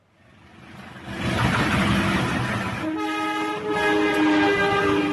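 A train passes close by, its rumble and rattle building quickly, then the locomotive sounds a loud, sustained horn chord that carries on over the roar of the wagons.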